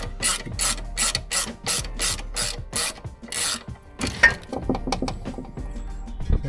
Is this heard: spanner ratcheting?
yes